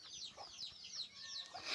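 Chickens on a rural farm cluck in quick, repeated bursts, fairly faint and slightly distant, with no talking.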